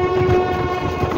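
A train speeds through Gaura railway station on the Pratapgarh–Janghai–Jaunpur line, where track doubling is underway. It makes a loud, continuous rail rumble with a steady sustained tone running through it, and nobody speaks.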